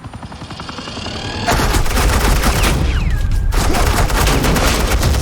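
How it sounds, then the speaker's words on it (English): Rapid automatic gunfire pours out in a dense, continuous burst in the Batman: The Enemy Within video game, starting lighter and then jumping to a loud, sustained suppressing barrage that fills the rest of the stretch. "Suppressing fire."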